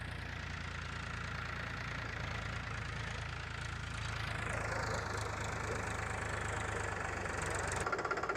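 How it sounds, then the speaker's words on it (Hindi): A tractor engine runs steadily in a coriander field, a constant low rumbling drone with a rising whine midway and no voices. "तो अभी राजू चला रहा है ट्रैक्टर"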